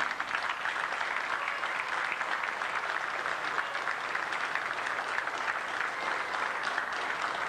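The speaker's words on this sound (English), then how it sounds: "give a round of applause to our families" A crowd with soldiers in uniform gives a sustained, even round of applause for soldiers' families, steady dense clapping that holds throughout.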